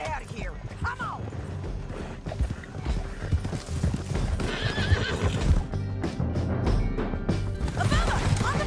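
Horses in Red Dead Redemption 2 gallop in a rapid clip-clop, with whinnies and neighs, crashes and gunfire-like thwacks over a dense, busy mix while voices shout throughout.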